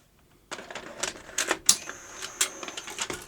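A Sony UVW-1200P Betacam SP player taking a large tape, heard as a quick run of sharp mechanical clicks, clunks and whirring close by, rattling irregularly for about three seconds.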